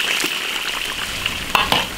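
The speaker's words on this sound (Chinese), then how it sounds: "把茄子下锅炸一下" Eggplant deep-frying in hot oil in an iron wok gives a steady, close crackling sizzle, with a few sharper pops near the end and no talking.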